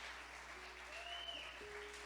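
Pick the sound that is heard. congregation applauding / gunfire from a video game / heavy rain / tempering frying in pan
congregation applauding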